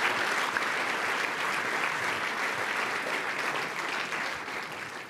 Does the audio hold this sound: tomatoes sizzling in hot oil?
no